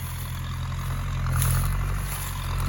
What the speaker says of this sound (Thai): เมซี่เฟอร์กุสันครับสี่เจ็ดศูนย์แปด แปดสิบห้าแรงมากครับ เครื่องยนต์นี่สี่พันสี่ร้อยซีซี เทอร์โบนะครับ